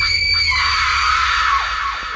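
A woman's loud, sustained scream in a Hindi horror story, shrill and piercing throughout, holding steady for about two seconds before trailing slightly at the end.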